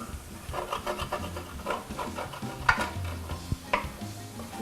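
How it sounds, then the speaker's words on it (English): Wine poured into a skillet of sautéed garlic for chipotle chicken and rice, bringing a soft sizzle with repeated scraping and stirring strokes of a utensil across the pan, close and moderately quiet, with a couple of sharper clinks. "Now I'm ready to add my wine to help deglaze the pan."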